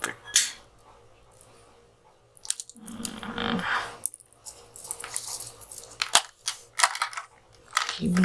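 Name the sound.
unwrapping earphone packaging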